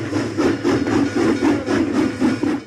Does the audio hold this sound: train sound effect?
yes